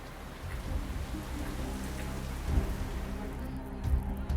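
Steady pre-monsoon rain falls over the Sanjay Van woodland in North India, a dense, even hiss of drops on surfaces with low rumbling underneath, heard alone throughout.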